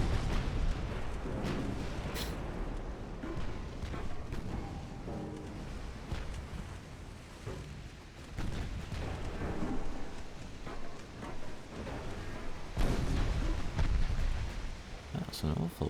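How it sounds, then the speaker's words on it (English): Heavy gunfire and artillery from a naval battle in the game UAD (Ultimate Admiral: Dreadnoughts), booming continuously and loudly with dense rumbling bursts throughout, under a voice talking. "That's a lot of gunfire."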